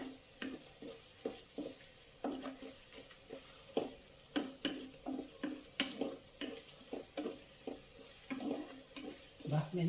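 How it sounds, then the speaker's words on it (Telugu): Onions frying in a pan for an anapakaya (bottle gourd) and chana dal curry, with repeated stirring scrapes and soft sizzling in a close, steady rhythm, free of talk. "ఉల్లిపాయ కొంచెం వేగాలండి"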